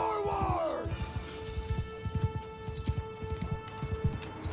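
Horses gallop in a medieval battle in Mount & Blade II Bannerlord, with a quick run of clip-clopping hooves thudding continuously under a sustained tonal drone, fairly close and steady.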